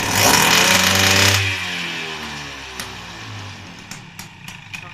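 A freshly rebuilt, restored Motobécane 103 RCX LC moped engine gives a loud, brief burst of revs, then drops back to a steady idle that lingers nearby with light clicking.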